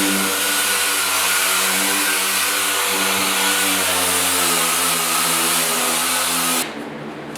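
Power sander with 80 grit paper working over the front fender of a 1972 Ford 4x4 truck, giving a loud, steady, close whirring drone that cuts off abruptly near the end.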